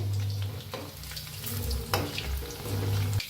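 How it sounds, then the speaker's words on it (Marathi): Food deep frying in hot oil on a stove, a steady close sizzle and bubbling with some low stirring and clatter throughout, no voices. "चांगले असे तळून घ्या आणि गॅस कमी करा म्हणजे आतपातून मस्त असं तळलं जाते"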